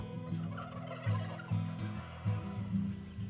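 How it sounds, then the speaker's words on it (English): Turkey toms gobble in a barn on a breeding farm, several loud, close, rattling gobbles in quick succession over a murmur of other birds, with no talk. "Only toms gobble, the females make clicking noises."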